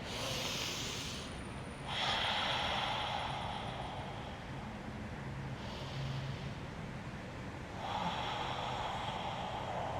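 Slow, audible yoga breathing during a seated foot stretch: long airy inhales and exhales through the nose, rising and falling in gentle waves over soft background hiss, with no speech.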